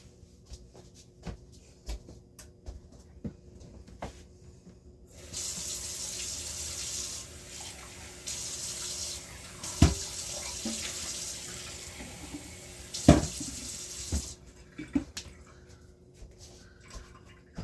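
A kitchen tap runs steadily for about nine seconds while a little water goes into a pot during holiday cooking prep, a broad continuous hiss with a few clunks and knocks from handling.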